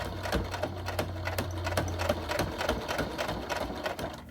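A sewing machine topstitches a thick fabric wallet at a longer stitch setting, giving a close, steady rapid clatter of needle strokes with a low motor hum underneath.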